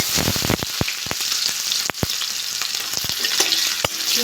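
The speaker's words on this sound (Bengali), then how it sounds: "আমি এবার পেঁয়াজ দিয়ে দেবো" Sliced onion hits hot oil already fragrant with fried cumin and dried red chillies, giving a steady close sizzle broken by sharp clacks of a spatula stirring the pan; no one speaks.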